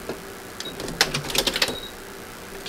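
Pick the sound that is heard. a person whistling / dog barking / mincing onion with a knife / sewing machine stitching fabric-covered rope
sewing machine stitching fabric-covered rope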